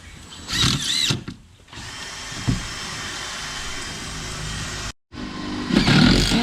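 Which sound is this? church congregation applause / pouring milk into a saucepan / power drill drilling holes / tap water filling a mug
power drill drilling holes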